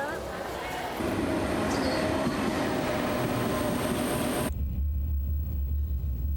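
Inside a moving train, a steady low rumble and wheel noise fill the carriage, with muffled voices faintly present and the scene abruptly shifting to a quieter, deeper hum near the end.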